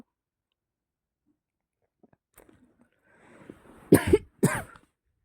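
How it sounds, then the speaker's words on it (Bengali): Two sharp coughs close by, one right after the other, following a few quiet footsteps and rustles. "কাশি হয়েছে প্রচণ্ড"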